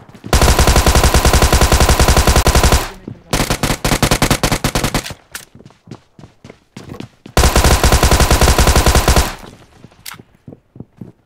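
Tommy gun fire in an Indo-lobby battle royale match at Pochinki, loud sustained automatic bursts of about three and two seconds, separated by sharper scattered single shots and short volleys.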